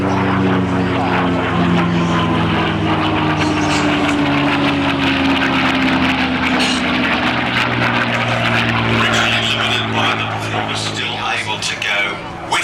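A P-51D Mustang fighter plane flying at an air festival drones with a loud, steady propeller-engine roar throughout, a sustained buzzing hum that dips slightly near the end, with crowd or commentary voices faintly beneath.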